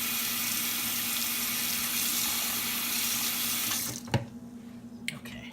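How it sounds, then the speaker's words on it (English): Tap water runs steadily into a sink as something is rinsed off during cherry cheesecake pie prep, a broad continuous hiss that cuts off near the end, followed by a couple of faint clinks. "let me rinse this off."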